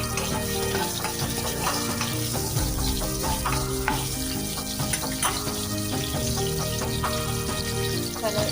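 Cumin seeds and green chillies sizzle and crackle steadily in hot oil while a curry is being prepared, a loud, continuous frying hiss with occasional pops and faint stirring throughout.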